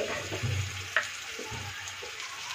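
Cut potato strips dropped into hot oil for a Bengali rohu fish curry, giving a soft, steady sizzle with a few sharper crackles and clinks.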